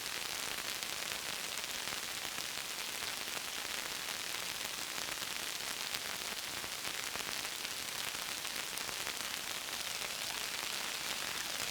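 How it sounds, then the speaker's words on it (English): Synthesized rain sound effect for environment sound design, a dense, steady hiss of static-like patter sustained evenly throughout with no voices. "With our basic rain sound synthesized"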